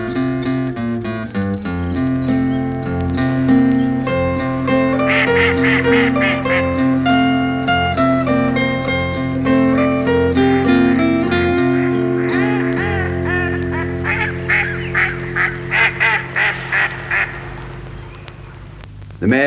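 Ducks quack and honk in a loose, repeated series at Trumpton Park, the calls close and prominent over sustained background music.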